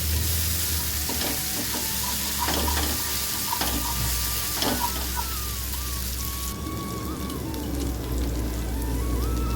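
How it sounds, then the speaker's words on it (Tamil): Steady sizzling of spices and turmeric sautéing in a hot pan for a kuzhambu, with intermittent clinks and scrapes of a spoon stirring, close and continuous with no talking. "இதை கொஞ்சம் நல்லா வதக்கி விட்டுருவோம் கலந்து விட்டுருவோம்"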